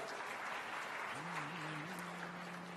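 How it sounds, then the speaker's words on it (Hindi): Steady applause from the audience at the inauguration of a hospital and research centre's MRI facility, a dense even wash of clapping throughout, with a sustained tone sliding in near the end as music or singing begins. "तालियां बजती रहे मित्रों।"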